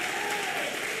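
A church congregation at a Sunday worship service applauding together, a brief dense wash of clapping close and even, with no pause.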